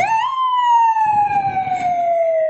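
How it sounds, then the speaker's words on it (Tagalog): Fire truck siren passing on a street, a loud sustained wail that sweeps up quickly then slowly glides downward, with traffic rumble underneath and no talk. "Uy, may bumbero."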